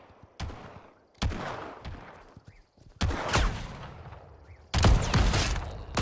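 Distant gunshots echo in the open-world Western survival game Legend of California at dusk: four separate sharp cracks, each with a long rolling tail, growing louder and denser toward the end.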